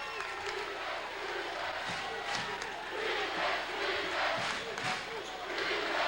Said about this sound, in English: Putnam County's crowd is up and cheering, and it's noisy.